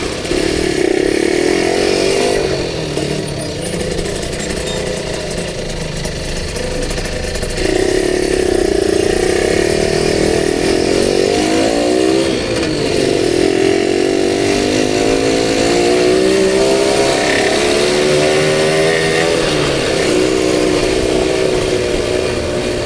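Suzuki Satria two-stroke motorcycle ridden through busy city streets in Tasikmalaya, its loud, buzzy engine close and continuous, rising and falling with throttle changes and revving between gears, with faint traffic around and no talk.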